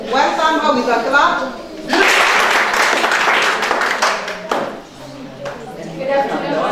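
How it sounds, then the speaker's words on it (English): Schoolchildren clapping in welcome at a primary school, a burst of group applause that starts partway through, with talk and singing voices before it and chatter over it. "Welcome home with a clap."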